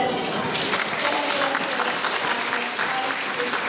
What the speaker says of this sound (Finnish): Tekon aplodit heille.